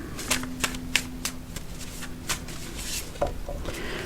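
Tarot cards shuffled and drawn by hand: a string of soft, crisp card slaps and riffles at an uneven rhythm, close and fairly quiet, with no voices.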